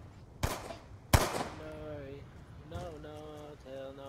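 Two sharp, loud gunshots in Black Ops 2, coming in quick succession. A voice talks and sings over the quieter second half.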